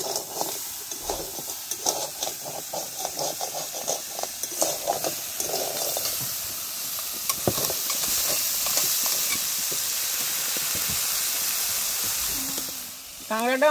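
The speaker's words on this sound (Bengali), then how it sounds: "কাঁকড়াটা আমাদের কষাই হয়ে গেছে" River crab is sautéed in a pot over an outdoor fire by a river, with a steady sizzle and hiss alongside repeated stirring scrapes and clatter, fairly close, while faint voices come through in the background.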